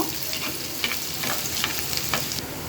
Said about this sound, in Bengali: একটা কড়াই নিয়ে এতে পেঁয়াজ এবং শুকনো মরিচ মাঝখান থেকে ভাগ করে দিয়ে দিলাম